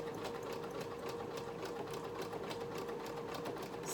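A sewing machine stitches stretch fabric in a fast, steady run of rapid needle clatter with an even rhythm and a faint motor hum, close and quiet, with no talk.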